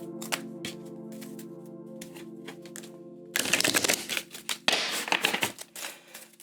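Tarot cards shuffle in rustling, papery bursts for about three seconds, following a quieter stretch of steady tonal background sound with a few light taps.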